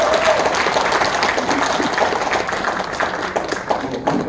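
Audience applause opening the founding meeting and seminar of the Banmin Teugwi memorial society in a small National Assembly office meeting room, dense close clapping throughout with voices mixed in.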